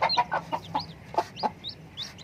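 Brooding mother hen clucking in a quick run of short, close calls, with a chick's thin cheeps scattered over the top and a low hum behind.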